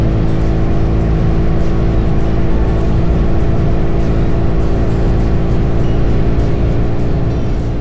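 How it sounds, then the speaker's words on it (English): Continuous heavy motorcycle engine rumble heard while riding, a dense low-pitched drone with steady loudness and no pauses. "the rumble of the engine beneath you"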